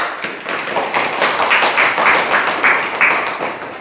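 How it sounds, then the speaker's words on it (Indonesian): A classroom group claps for the third group, a quick run of close, bright handclaps lasting a few seconds with a faint voice mixed in. "Kita beri aplaus dulu untuk kelompok 3"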